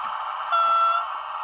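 A model electric train's horn sounds one short, clear, steady toot of about half a second over a constant electrical hum, close and fairly loud.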